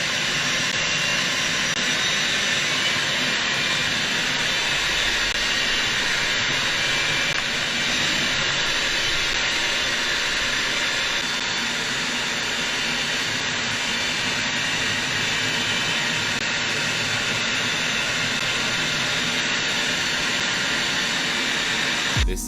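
F-35 fighter jets on a low flyby at an air show make a loud, continuous roaring jet rush that stays steady and broadband throughout, with no voices.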